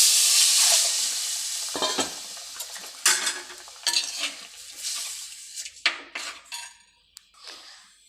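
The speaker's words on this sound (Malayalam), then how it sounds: "ഈ പുളിവെള്ളം ഇതിനകത്ത് ഒഴിക്കാം" Tamarind water poured into a hot pan for a sardine curry bursts into a loud hiss that fades, followed by irregular stirring scrapes and clinks of a spoon against the pan.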